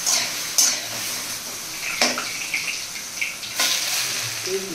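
Hilsa fish head cooks with Malabar spinach in oil in a pan, a steady soft sizzle broken by a few sharp utensil scrapes and clinks against the pot, close by and without talking.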